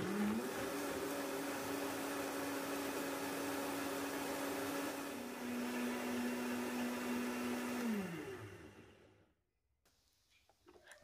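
A blender purees chilies, whirring loudly and steadily, its pitch dipping slightly midway, then winds down and stops, leaving faint clinks.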